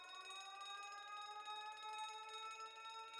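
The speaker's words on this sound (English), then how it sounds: "That's the alarm outside" An alarm rings outside with a continuous, bright electronic tone, held steady at a moderate level with no pauses and nothing else in the background.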